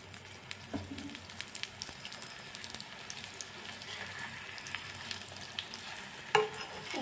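Egg paratha frying in refined oil on a pan over a gas flame, with a steady close sizzle and crackle throughout and a brief clatter near the end, with no talking.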